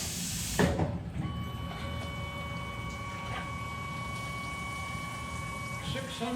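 A Tormach PCNC 1100 CNC mill drives a solid carbide countersink into aluminum, a steady high whine of held tones from the spindle and cut over a low hissing background, with a voice faintly present.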